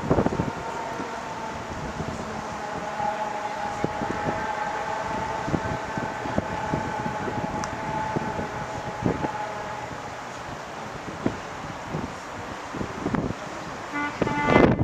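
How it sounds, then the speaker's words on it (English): A truck horn toots from outside as a Carnival Fascination cruise ship, heard from a balcony cabin, passes under a bridge; the honks come in short bursts over steady wind and engine rumble. "somebody's honking their horn as a truck"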